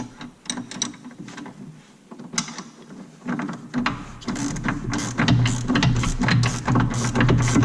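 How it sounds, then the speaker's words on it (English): A 14mm wrench ratchets a bolt tight on a Can-Am X3 during a 72-inch quick detach install, giving rapid repeated clicking bursts that grow louder and denser toward the end over a low mechanical hum. "14mm wrench on this one as well for the flat."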